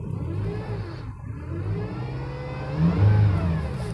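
A 2007 Honda Odyssey 2.4 with stock exhaust revs its engine, a smooth mid-pitched rise that dips briefly then climbs louder near the end, steady and close with no talk.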